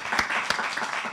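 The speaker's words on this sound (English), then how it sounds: "Y'all need to clap it up right there." A church audience claps during a talk, several loose, uneven claps close together over about a second, fairly clear but not forceful.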